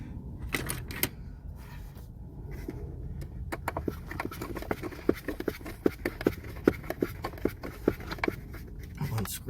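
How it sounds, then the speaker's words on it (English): Screws are driven back into a car's handbrake console with a hand tool, producing a close run of quick, sharp clicks and ratcheting ticks that speed up toward the middle, over faint room noise. "put the 2 screws back in"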